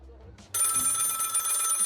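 An electric telephone bell starts ringing in the video game Lil' Guardsman, loud and continuous after a brief soft sound, with a low voice murmuring at the start.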